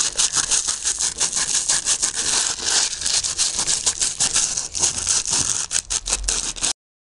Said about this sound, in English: Filing's done, so turning it and sanding the edges.